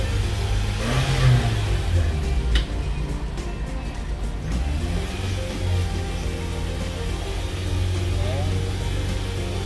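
Toyota Camry 2.4 V (XV40) engine with drive-by-wire held steady around 3000 RPM, a continuous mid-pitched engine drone running throughout with slight rises, near and fairly loud, with talk over it.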